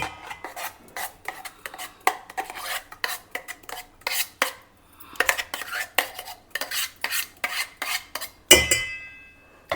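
Soya chunk paste is scraped from a mixer jar into a bowl, a metal spoon clinking and rasping against the containers in rapid repeated strokes, ending with a louder knock.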